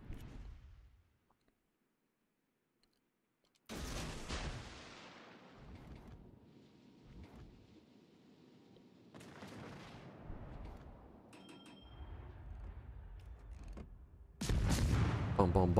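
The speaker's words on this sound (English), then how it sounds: "Their BBs are pretty good, they're actually shooting me." Heavy naval guns fire in a warship battle game, a series of deep booming blasts and rumbling volleys spread across the span, separated by quiet gaps, with a louder burst near the end.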